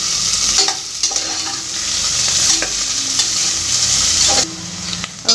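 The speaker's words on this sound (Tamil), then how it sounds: "நல்லா இது வந்து கலர் சேஞ்ச் ஆகிற வரைக்கும் நீங்கள் வதக்குங்க" Onions for fish biryani sauté in a pan with a steady, loud hiss of frying oil and occasional scraping stirs of a spoon, continuous and close, with no talking.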